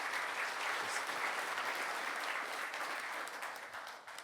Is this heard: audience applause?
yes